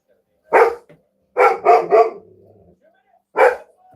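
A dog barks in short bursts indoors: one bark, then three quick ones in a row, a pause, and a final bark, all fairly loud and close with quiet gaps between.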